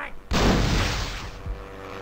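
Bazooka fired in the video game Hogs of War: a sudden loud blast that swells into a broad, rumbling roar, with a second thump a moment later, no talking.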